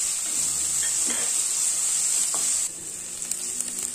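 Sliced onion and green chillies fry in coconut oil for a Kerala-style chickpea curry, giving a steady, close, bright sizzle throughout, with a slight drop in intensity partway and soft stirring clicks.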